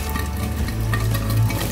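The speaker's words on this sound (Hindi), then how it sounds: "इसको शैलो फ्राई करेंगे" Fish shallow frying in oil for a dhaba-style masala fish curry, a steady close sizzle with a low bubbling undertone that holds evenly throughout, with no voices.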